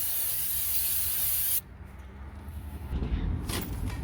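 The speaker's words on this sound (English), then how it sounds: "spray it on with some brake cleaner" A brake cleaner aerosol can sprays in a loud continuous hiss for about a second and a half, then stops, followed by quieter handling noise and a short faint spray.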